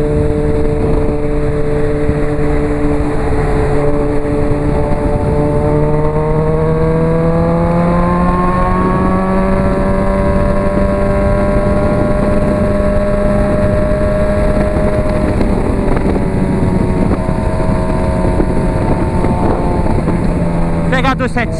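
A Honda CB 1000R motorcycle pulls hard along a highway, its engine note climbing steadily through the revs with loud wind rush throughout, recorded close from the rider's position.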